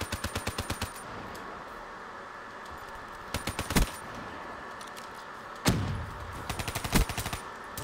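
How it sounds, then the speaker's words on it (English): Pistol fire in a shooter video game: quick rhythmic strings of crisp shots at the start and again later, plus a few heavier single bangs, moderately quiet against steady game background noise. "I heard that pistol."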